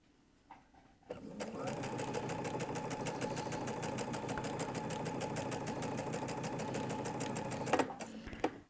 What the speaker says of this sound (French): je le lui mets endroit contre endroit et je les coude ensemble pareil, sans couper le fil